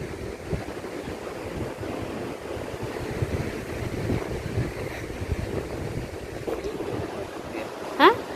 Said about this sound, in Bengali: আর এই বিচটা দেখো কত শান্ত পরিবেশ না?